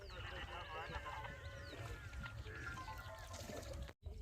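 A boat crossing a branch channel of the Koshi river near Hanumannagar Kankalini in Nepal, with steady low motor or water rumble and scattered clinks and whistling tones throughout, briefly cut off near the end.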